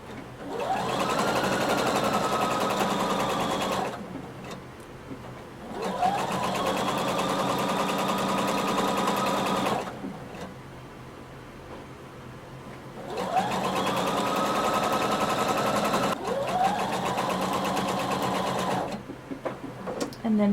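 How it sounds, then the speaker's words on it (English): A sewing machine stitches a long duster cardigan seam in three sustained runs with short pauses between them, and its steady whirring motor is loud and close. "So start sewing about 5/8 of an inch away from the seam, and we're going to sew until we get to the"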